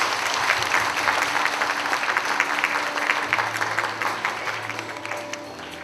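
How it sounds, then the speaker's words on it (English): Sustained applause from an audience at a Buddhist conference ceremony in Malaysia, a dense wash of many hands clapping steadily throughout at a consistent level. "A loud applause,"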